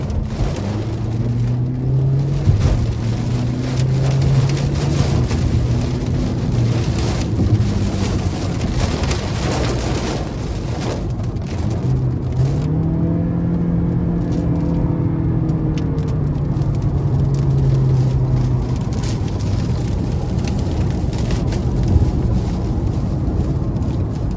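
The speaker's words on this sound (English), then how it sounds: "Even as it started pouring rain there" Heavy downpour and strong gusting wind buffet a 2024 Toyota Corolla Hatchback SE with a 2.0-liter four-cylinder while it is being driven, a steady loud roar of rain on the body over continuous road and engine drone with no talk.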